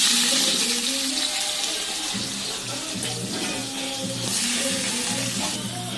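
Chopped onions sautéing in oil with green chillies, cinnamon and cloves for a mutton biryani, a steady broadband sizzle with a watery hiss that runs continuously and fairly loud with no talking.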